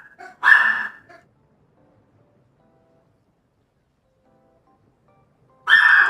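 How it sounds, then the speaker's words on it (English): A dog barks indoors in two separate outbursts: a quick cluster of sharp barks near the start, a long quiet stretch, then another loud burst at the very end. "As my dog starts to bark"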